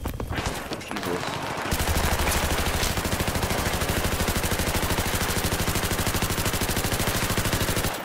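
Rapid sustained automatic fire from an LMG in Battlefield 3, a dense loud rattle of shots running nonstop for several seconds after a brief lead-in of other game noise.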